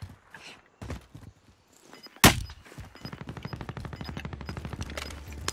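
Gunfire in Call of Duty Modern Warfare: a loud single crack, then rapid rhythmic automatic fire building steadily, with scattered earlier shots and footsteps.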